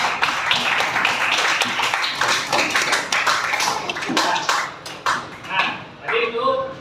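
Applause from students in an Indonesian classroom during an Islamic religious education teaching-practice lesson on zakat: dense, steady clapping that fills the room throughout, with voices mixed in.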